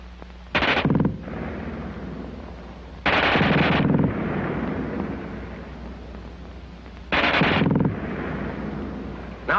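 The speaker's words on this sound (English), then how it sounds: "who can't get over the fast burp of that German gun" A German machine gun fires three rapid, loud bursts of about a second each, separated by pauses filled with echoing rumble and low background noise.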